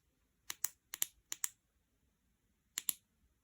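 The button of a Sofirn SK30 tactical flashlight is pressed in sharp paired clicks: three quick double clicks, a pause, then one more pair, crisp and close in a quiet room.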